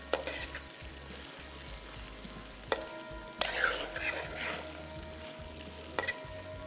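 Meat sizzles steadily in a hot pan while a utensil scrapes and clanks against the metal now and then as it is stirred.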